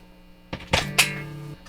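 A Chibson knockoff Les Paul electric guitar played clean with no pedals strikes a few quick notes that ring briefly over a steady mains hum.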